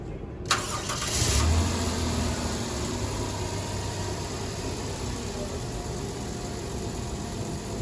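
Car engine running with the alternator disconnected during a fuel system test, a steady broadband idle rumble after a brief start-up surge, continuous and fairly close with no talking.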